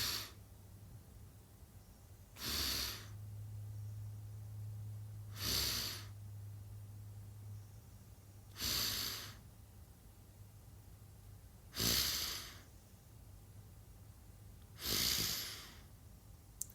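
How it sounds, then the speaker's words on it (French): Slow, deep breaths taken in and out during a calming breathing exercise, five soft airy whooshes spaced about three seconds apart, close and quiet with no talking. "Et c'est parti, j'inspire."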